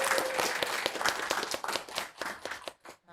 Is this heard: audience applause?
yes